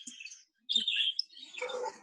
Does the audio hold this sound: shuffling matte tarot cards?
no